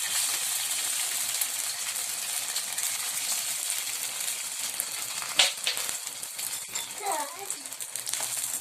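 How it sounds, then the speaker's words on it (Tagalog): Canned beef loaf frying in hot oil in a pan gives a loud, steady hissing sizzle with occasional pops and crackles. A voice briefly breaks in near the end. "Iprito muna natin ang ating beef loaf."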